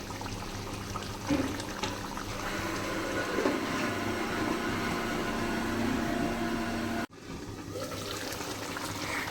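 Water is poured into a pot of chicken kosha, giving a steady, close splashing rush for several seconds before a sudden brief cutoff and then quieter background.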